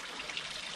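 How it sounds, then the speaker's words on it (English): Water flows steadily between artificial concrete rocks in a small man-made waterfall, a soft continuous rushing trickle heard alone at low level. "the water comes out between the rocks, which are actually also artificial rocks made from concrete"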